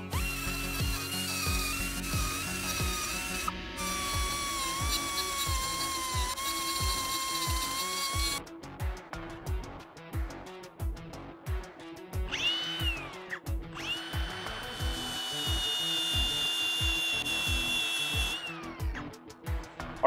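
An abrasive power grinder whines continuously against steel rivet heads on a Harley M8 bagger primary cover, with rhythmic pulsing and pitch shifts as it cuts, pausing briefly midway before resuming.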